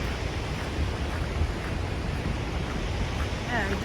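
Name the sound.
Genesee River flowing in the gorge at Letchworth State Park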